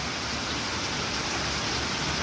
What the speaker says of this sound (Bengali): এখনো বৃষ্টি হচ্ছে দেখো